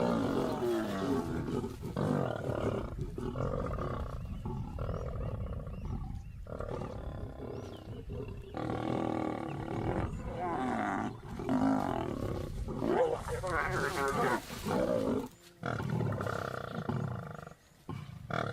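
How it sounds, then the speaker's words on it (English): Lions roar and growl over a kill on a South African safari, deep rumbling calls rising and falling almost continuously, loud and close, with brief pauses near the end. "Undeterred, the lioness carries on feeding."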